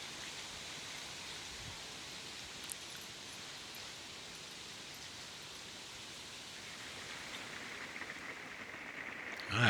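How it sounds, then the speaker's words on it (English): Steady rain pours down outside a camping shelter in cold weather, a dense even hiss that lasts throughout with a few faint taps and no talking. "Rain started coming down pretty good out there."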